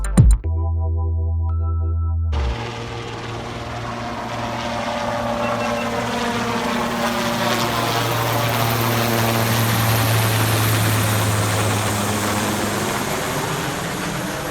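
An aircraft, likely a helicopter, passes overhead in Washington DC with a loud, steady rotor drone that holds for the whole stretch after a brief opening tone, with no talk.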